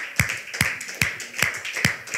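A church congregation clapping hands in praise, striking together in a steady unison beat of five sharp claps about half a second apart, close and clear with no talking.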